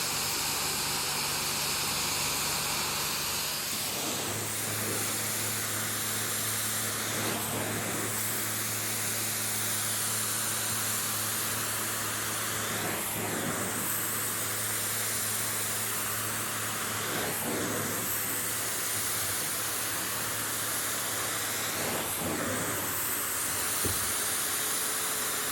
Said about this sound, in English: You can see the steam coming out.